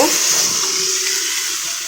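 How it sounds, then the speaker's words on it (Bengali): Water is poured into a pot of khichuri that has been fried with vegetables, making a steady rushing hiss that fades slightly over two seconds with no talk. "এখন আমি এর সাথে দুপট পানি দিয়ে দিব"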